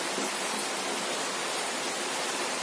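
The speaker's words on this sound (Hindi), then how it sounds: "बारिश भी थोड़ी तेज हो चुकी है" Heavy rain falls in a steady, dense hiss that stays even throughout, heard alone without any speech.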